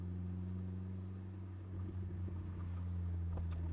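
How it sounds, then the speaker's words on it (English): A 24-to-25-year-old Mazda NB Miata drives along with a steady low engine hum, while loose doors give off light intermittent rattles and taps that grow busier in the second half; quiet overall, no talking. "It's got some rattles"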